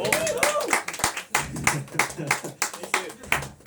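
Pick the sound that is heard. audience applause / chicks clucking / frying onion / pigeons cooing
audience applause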